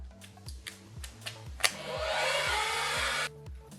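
A Rowenta Activ Dry Style hot air brush switched on, its fan and heater giving a steady, fairly loud blowing rush for about a second and a half after a few clicks of the switch, then cutting off.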